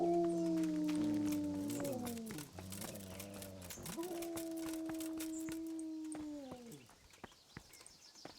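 Several dogs in the medieval game Kingdom Come: Deliverance, with long sustained howls rising and falling over about seven seconds, fairly loud and close, backed by faint ambient chatter and clicks.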